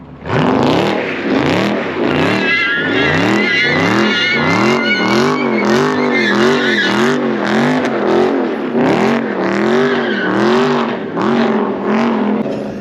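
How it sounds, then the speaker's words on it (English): Audi S5 engine revving hard during a burnout attempt, with loud, continuous rising and falling surges that repeat in a steady pulsing rhythm, close by and alone. "I think he's trying to burn out."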